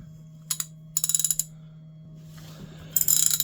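An Artisan USA Classic SK-built ratchet turning, giving two short bursts of rapid fine clicking followed by a longer run of clicks, close and alone over a steady low hum.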